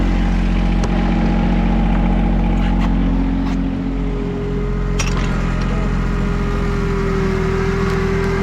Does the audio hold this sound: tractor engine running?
yes